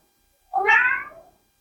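A single clear cat meow, close and alone, rises and trails off in a quiet mountain bookstore that is home to two cats.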